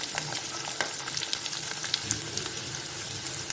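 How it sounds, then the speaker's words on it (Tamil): Onion and garlic sizzle steadily in a hot pan as they sauté, with occasional stirring scrapes over a continuous crackling fry, close up and with no talking. "இது வந்து நல்லா வெங்காயம் பூண்டெல்லாம் நல்லா வதங்கணும்."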